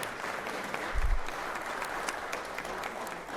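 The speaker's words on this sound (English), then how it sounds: "give her a round of applause here" Steady applause fills the Georgia Senate gallery, a moderate, even wash of clapping that runs through the whole stretch with no speech on top.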